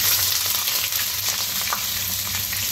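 Onions and spices sizzle steadily in hot oil in a pot, a close, even crackling hiss with no voices over it.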